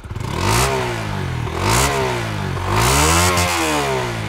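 A Honda CB150X motorcycle exhaust revs hard three times, each rev climbing sharply in pitch and falling back, loud and close, with a raspy crackling edge and no talk.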